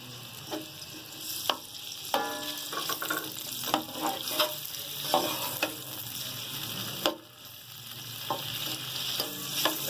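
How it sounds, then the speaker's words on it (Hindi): Chopped onions browning in hot ghee in a pan for nalli nihari. A soft, steady frying hiss runs throughout, broken by repeated spoon scrapes and light knocks. The sound is fairly quiet and close, with no voices. "मैंने 2 चम्मच घी डाला है इसमें। जैसे ही हमारा घी गर्म हो जाएगा, हमने ये 1 पाव प्याज काट के रखे हुए, अभी ये हम ब्राउन कर लेंगे"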